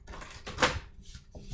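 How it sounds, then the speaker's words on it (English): Oracle cards being shuffled by hand, a soft papery riffle that swells into one louder burst of flicking cards midway, then lighter rustling and a small tap near the end, with no talking. "Let's do one more shuffle"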